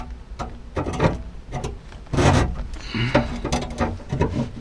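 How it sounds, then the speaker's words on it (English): A knife scratching a mark into wood, repeated short rasping scrapes in an uneven rhythm, close and fairly clear, with no voices over it. "So that's why I'm using my knife to kind of scratch, mark it that way."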